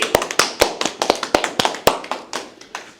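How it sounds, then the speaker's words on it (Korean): Scattered hand claps from a small audience at a community meeting in Hongcheon, welcoming a high school alumni association president; sparse, uneven individual claps at close range that thin out over about three seconds. "큰 박수로 환영해 주시기 바랍니다"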